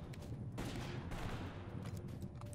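Dense gunfire in Totally Accurate Battlegrounds, a steady barrage of overlapping shots and bursts that stays loud and continuous throughout.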